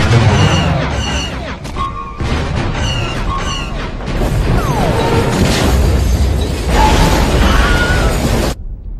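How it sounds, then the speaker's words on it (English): Starship gun batteries firing in a space battle, a loud barrage of booming blasts and crashing explosions layered with sci-fi laser zaps and rumbling impacts that continue heavily for several seconds. "All batteries fire!"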